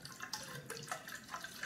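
Yeast harvested from a can of commercial beer, with settled yeast nutrient, poured into a flask: a soft, continuous trickling of liquid, quiet and close, with no talking.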